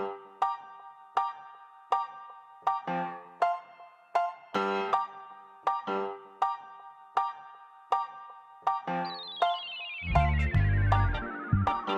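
A mobile phone ringtone for an incoming call plays as a repeating melodic pattern of bright synth notes, loud and close, ending with a rising swoop and a burst of low bass.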